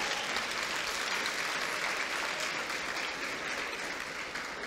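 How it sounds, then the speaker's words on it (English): An audience applauds steadily at a school Ramadan fundraiser keynote, a dense, sustained wash of clapping from a crowd that holds roughly even in loudness throughout, with no talk over it. "Round of applause for all of these individuals that are making our school great."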